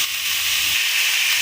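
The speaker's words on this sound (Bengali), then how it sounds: "এখানে আমি পাও ভাজির জন্য যেই সবজিগুলো কেটে নিয়েছিলাম সেগুলো আমি দিয়ে দেবো" Chopped pav bhaji vegetables with garlic and onion hit hot oil in a kadai, giving a loud, steady hiss of sizzling that fills the whole moment without pause.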